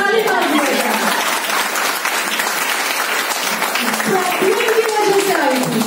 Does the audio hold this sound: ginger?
no